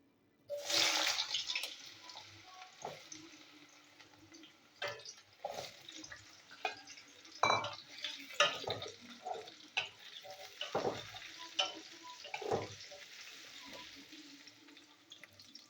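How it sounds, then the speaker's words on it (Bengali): Pumpkin pieces fry in hot oil, a bursty crackling sizzle that flares loudly at first, then continues in irregular pops and spatters, close by and without talk. "তো আমি আগে কুমড়োগুলো ভেজে নেবো তেলেতে"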